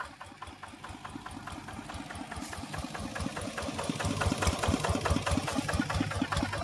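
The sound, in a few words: Ford tractor engine idling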